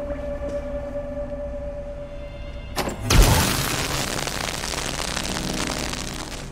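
In the video game We Happy Few, humming machines in a secret science lab drone on before a sudden loud blast breaks open a new door, followed by a long roaring rumble that slowly fades.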